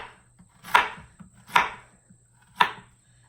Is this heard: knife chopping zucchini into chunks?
yes